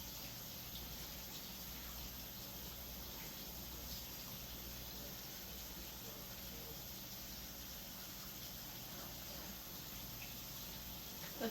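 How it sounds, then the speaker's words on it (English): Tap water running steadily into a sink for aseptic hand washing, a continuous even gush and hiss that holds at a moderate level without break. "Turn the water on"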